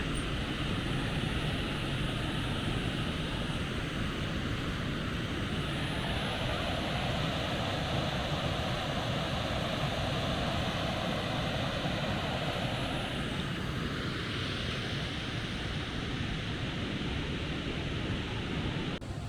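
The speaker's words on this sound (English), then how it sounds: "the River Tees cascades over a broad staircase of limestone" Low Force waterfall on the River Tees, water cascading over a broad staircase of limestone, a constant full roaring rush heard up close with no breaks.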